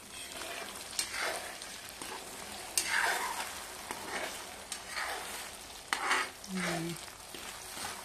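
Sardine and egg mixture stirred in a pan, a soft scraping and stirring with a light sizzle underneath, steady and close with occasional louder scrapes and no talking.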